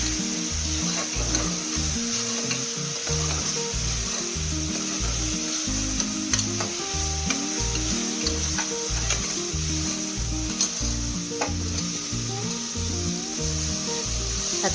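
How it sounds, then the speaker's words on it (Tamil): Tomatoes frying in a pan over ginger-garlic paste for prawn biryani give a loud, steady sizzle with repeated stirring scrapes throughout, close and without speech. "நம்ம தக்காளி ஆட் பண்ணிடலாம்."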